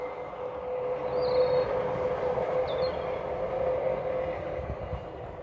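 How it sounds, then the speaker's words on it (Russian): Tram rolling past in Turin, a steady mid-distance rumble with a sustained tonal hum and brief high wheel squeals, fairly faint. "О, смотрите, наш трамвай."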